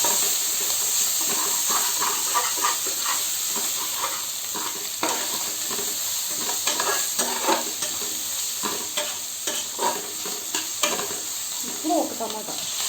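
Coriander and mint are stirred into hot oil in a frying pan, giving a continuous close sizzle and hiss with repeated soft scraping strokes of the spoon throughout.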